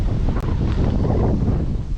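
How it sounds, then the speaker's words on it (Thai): Strong, cool wind blows across the bank of the Mekong River beside a riverside temple, buffeting the microphone with a loud, continuous, gusty roar and no voices. "ลมเย็นมาก ให้ฟังเสียงลมด้วยครับ ไม่ตัดออกด้วย"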